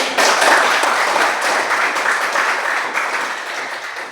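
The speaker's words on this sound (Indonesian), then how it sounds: "Kita tepuk tangan dulu." A crowd claps steadily for several seconds, dense and fairly loud applause with no voices on top.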